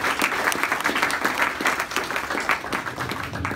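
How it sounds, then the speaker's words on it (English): A meetup audience applauds at a JavaScript user group after a talk on building an Alexa skill with Node and Lambda, steady dense clapping from a room of people held at an even level throughout. "Give him a round of applause."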